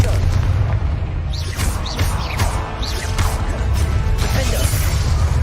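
Repeated Confringo spell blasts in the Hogwarts Legacy video game, loud booming bursts against a dense, noisy battle background, with several sharp hits spread through the stretch.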